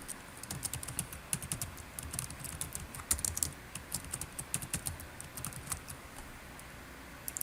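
Someone types on a computer keyboard to rename a screencast, a quick, irregular run of crisp key clicks, fairly close, with no voices.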